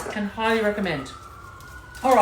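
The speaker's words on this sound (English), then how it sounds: "every day at this time we have sirens going off" An emergency siren wails in the background, a steady high tone under a person talking nearby.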